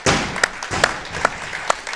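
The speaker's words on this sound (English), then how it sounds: "Found myself clapping at that one." Scattered audience applause at a women's masters weightlifting competition, uneven clapping with a few sharper, louder claps standing out, heard without talk.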